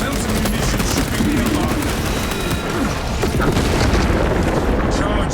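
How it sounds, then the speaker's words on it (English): Melter charge detonating in Warhammer 40k: Space Marine, a deep rumbling blast with crackling debris and scattered gunfire filling the whole stretch at loud, steady volume, with a voice speaking over it. "Charge detonated"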